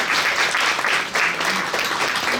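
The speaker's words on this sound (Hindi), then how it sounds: "इनके लिए तालियां होनी चाहिए।" Sustained applause from an audience at a mushaira, an Urdu poetry gathering, a dense steady wash of many hands clapping at once, fairly loud and continuous without talk.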